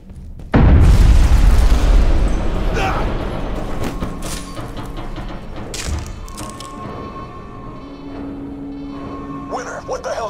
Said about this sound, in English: Explosive decompression in the Sulaco.